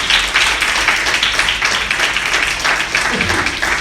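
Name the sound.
church congregation applauding for Jesus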